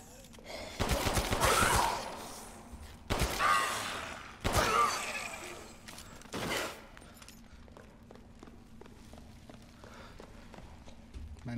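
Bursts of gunfire in the horror video game Resident Evil Village, three or four loud volleys spread over several seconds, then a quieter stretch with faint ambient noise.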